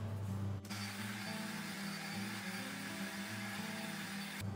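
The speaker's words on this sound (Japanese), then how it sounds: "次にドライヤーでここの湿ってる部分を乾かしていきます。" A hair dryer blows on damp hair in a steady, close whooshing drone with a low motor hum. It runs continuously and cuts off abruptly near the end, with no talking.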